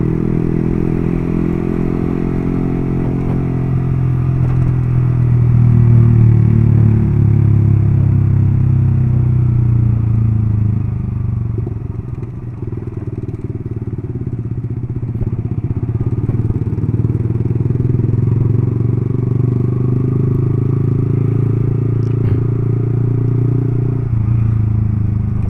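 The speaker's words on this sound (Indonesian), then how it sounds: "kalau di jalan yang aspal halus seperti ini nikmatin suara knalpot udah seneng bro" A Yamaha R15 v3 motorcycle from 2017 cruises on smooth asphalt, its exhaust a steady, loud low drone with gentle rises and dips in engine pitch and faint road and wind noise throughout.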